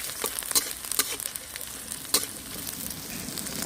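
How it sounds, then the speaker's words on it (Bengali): A hilsa fish head fries in oil with garlic, a soft, steady sizzle broken by a few sharp pops and spits. "মাছের মাথাটা তেলের মধ্যে দিয়ে দেবো"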